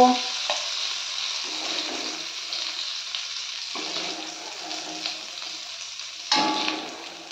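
Prawns fry in hot oil in a pan over a medium-high gas flame, giving a steady hissing sizzle with a few louder bursts, close by and without voices.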